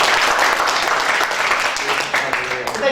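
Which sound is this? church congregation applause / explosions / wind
church congregation applause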